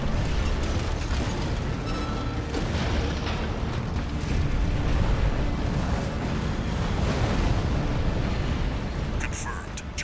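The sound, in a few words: explosion as Juggernaut is destroyed in Armored Core 6 video game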